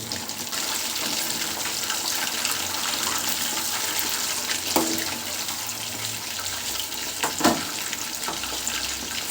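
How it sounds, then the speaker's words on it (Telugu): Chicken 65 masala frying in a pan, a steady dense sizzle running throughout with a couple of brief louder scrapes and clinks as the pieces are stirred. "ఇలా తిప్పుకుంటూ ఒక ఎనిమిది నిమిషాల పాటు కుక్ చేసుకోవాలి"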